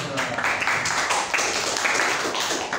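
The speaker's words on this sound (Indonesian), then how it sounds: "Tepuk tangan dulu untuk Asila" Classroom applause for a student, a steady patter of many hands clapping together, moderately loud and continuous for a few seconds without talk.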